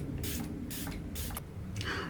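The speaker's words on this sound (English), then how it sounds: "I'm going to be using the Milani Make It Last, and this is their original setting spray" Milani Make It Last original setting spray is sprayed in four quick hissing bursts, close and evenly spaced, over a steady low background hum.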